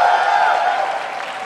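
Convention crowd at PAX Prime applauding loudly, a dense wash of clapping that stays strong and then eases slightly.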